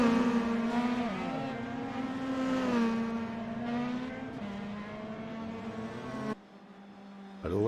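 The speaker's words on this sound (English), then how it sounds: "drag race off from pit road" Race cars accelerate off pit road in a drag race, engines revving loud and close with rising pitch, one car dominating before the sound cuts away abruptly near the end.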